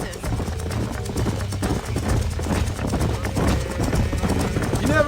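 Horses gallop in Red Dead Redemption, with a steady, close, rapid drumming of hoofbeats that runs the whole stretch over a dense layer of game ambience.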